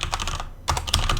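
Fingers type rapidly on a computer keyboard during a typing test, a dense run of close clicks with a brief pause before the keystrokes resume.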